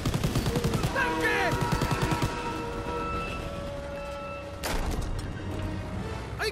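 Gunfire in Call of Duty: WW2 during a fight toward the front of a train: a fast rattling burst of shots, then quieter scattered reports and a louder crash, under shouted voices and tonal game sounds.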